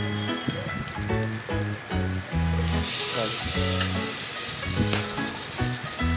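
Chicken pieces go into a hot pan for a chicken curry, setting off a steady, loud sizzle and hiss that carries throughout over background music.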